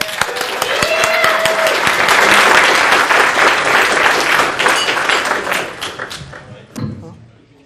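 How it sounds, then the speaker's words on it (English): Warm welcoming applause from a conference audience at LayerOne 2013, loud and dense clapping that swells, then thins out and fades near the end with a few stray claps. "Got to give him a warm, big welcome round of applause"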